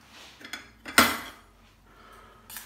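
A metal teaspoon clinks against a dish while paprika is measured out, a few light taps with one sharper chink in the middle, close and quiet.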